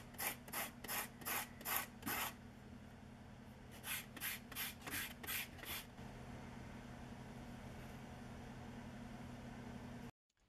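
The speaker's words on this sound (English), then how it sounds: "Then I can cut the ends and sand them to 220 grit." Wood ends are sanded by hand with 220 grit sandpaper in two runs of rhythmic back-and-forth strokes, about six quick rubs in each run, close and fairly quiet, followed by a faint hum of room noise.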